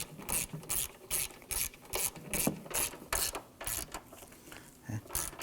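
A hand ratchet clicks in steady rapid bursts while tightening 13mm bolts on a 2015-2020 Ford F-150 hood hinge, about a dozen close, even pawl ratcheting strokes with short pauses between.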